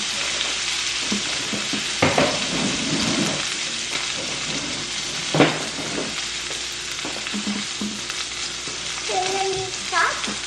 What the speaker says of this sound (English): we're gonna mix in our rice for a little bit, get it nice and toasty